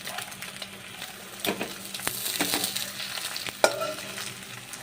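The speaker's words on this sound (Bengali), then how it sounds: "ডিমের কুসুমগুলো গোটা থাকবে, সেই অবস্থায় কিন্তু ভালো করে ভেজে নিতে হবে।" Whole-yolk eggs fry in a pan with a soft, fairly quiet sizzle. Scattered spatula scrapes and one sharper knock near the end come through, and no one speaks.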